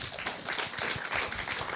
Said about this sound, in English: a clap for him.